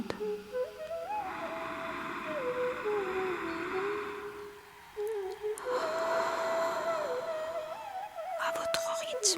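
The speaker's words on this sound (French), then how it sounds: "Prenons quelques respirations actives et profondes." Slow, deep, active breathing during a guided relaxation session, two long airy breath cycles over a soft sustained musical tone, calm and close.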